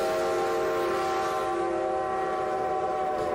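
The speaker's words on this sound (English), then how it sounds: "this diesel is on its freaking knees trying to get these ore jennies up the hill" A diesel locomotive in the Railroader video game, modded, strains to haul loaded ore cars uphill, giving a loud steady engine drone with sustained tonal hum throughout and no talking.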